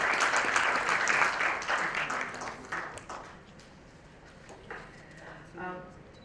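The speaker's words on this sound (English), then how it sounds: "I would like you all to give a big hand applause to our dignitaries here." A crowd at a Maratha cultural event gives a big round of applause for the dignitaries. The clapping is dense and sustained, loud at first and then fading, with a voice speaking near the end.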